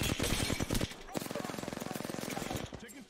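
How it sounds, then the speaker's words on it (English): Rapid automatic gunfire from the battle royale game Apex Legends comes in dense bursts. A long, steady stream of evenly spaced shots follows, loud and close, and then tapers off. "Taking fire, brother."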